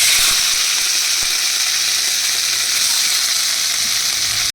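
Prawns frying in a pan make a loud, dense hiss of sizzling oil that runs steadily throughout, with a few light stirring knocks early on before it cuts off abruptly.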